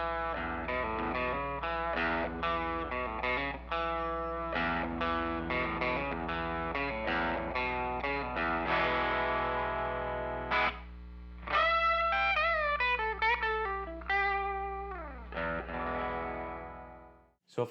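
Electric guitar played through an MXR Timmy Mini overdrive pedal with its clipping diode switch centered, bass and treble unchanged: a sustained, mildly distorted strummed chord passage, then single-note bends and runs, loud and continuous with no talking.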